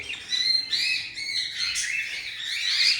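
Several birds chirp and tweet in quick, overlapping bursts, close and fairly loud, with no other sounds.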